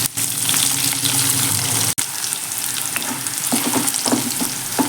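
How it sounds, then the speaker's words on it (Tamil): Onions and garlic sizzle steadily in a pan of hot oil for a home-style vatha kulambu, a loud continuous frying hiss with a few stirring clinks. "பொறிஞ்சிட்டு வெங்காயம் போட்டுக்கலாம் பூண்டு சேர்த்துக்கலாம்"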